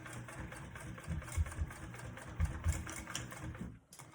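A sewing machine top stitches a bag, giving a quiet, rapid mechanical whir in short bursts with brief pauses and a soft stop at the end, and no talk.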